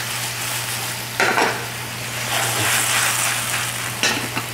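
Onions sizzle steadily in a hot pan as liquid cooks off, with a soft constant hiss and a couple of brief utensil clinks or stirs partway through.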